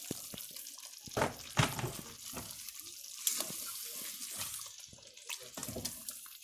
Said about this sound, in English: I am going to now pour a tiny bit from the kettle